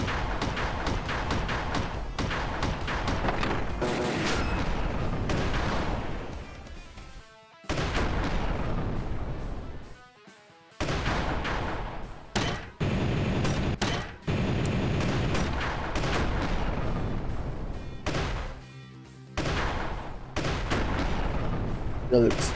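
Heavy mechanical weapon fire in the side-scrolling mech shooter MECHBLAZE, a dense, near-continuous barrage of blasts and thuds broken by a few short gaps, with a voice over parts of it.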